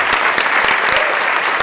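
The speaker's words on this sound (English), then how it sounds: "Let's give him a round of applause." Steady, dense applause fills an assembly floor session as legislators welcome a visiting representative, loud and sustained without a break.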